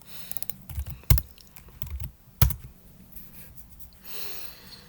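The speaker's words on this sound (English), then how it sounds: "typing that into Python calculator gives us this number" Numbers being typed on a computer keyboard into a Python calculator, a quick run of light key clicks broken by two loud heavy keystrokes, then a soft brushing noise near the end.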